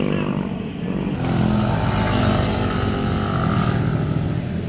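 Motorcycle engine revving close by, a loud rising roar that climbs after a short dip and then holds at a high, steady drone.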